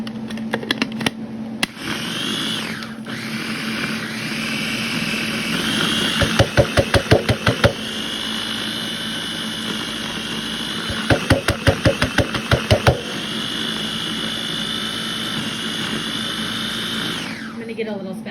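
A food processor whirs steadily as it blitzes cremini mushrooms, a continuous motor drone with two bursts of rapid clattering pulses partway through, stopping near the end.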